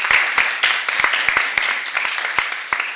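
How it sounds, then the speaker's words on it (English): A small audience at a county commissioners' Asian American and Pacific Islander Heritage Month celebration gives brief applause, with sharp individual claps scattered unevenly rather than forming a dense roar. "give them a wonderful round of applause"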